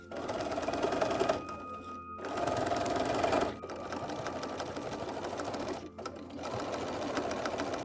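A domestic sewing machine stitches along a pressed fabric edge, running in bursts with brief pauses between seams of continuous mechanical whirring, fairly close and steady.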